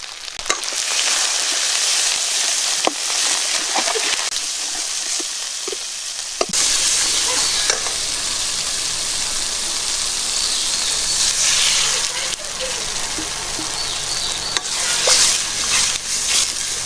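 Curry broth with salt, turmeric and chili powder bubbling and sizzling in a pan, a steady close hiss with scattered small pops and occasional clinks throughout, no voices.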